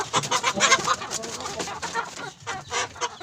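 Rhode Island Red chickens cluck repeatedly and close by, a dense run of short clucks and squawks from several birds with no talk over them.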